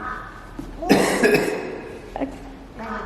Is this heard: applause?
no